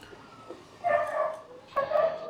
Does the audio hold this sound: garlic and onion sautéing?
no